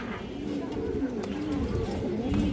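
A black-necked female pigeon coos in a repeated low, rolling rhythm, several soft close calls over a steady background murmur.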